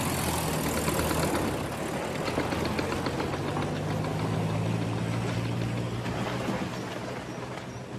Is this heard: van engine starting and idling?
yes